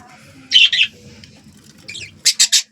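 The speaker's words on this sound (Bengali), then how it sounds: "আর এখানে লাভ বার্ড আছে, আর বদ্যিটা আছে" Pet lovebird and budgerigar give harsh, close squawks in two short bursts, the second a quick triple call, over a quiet background of soft chatter.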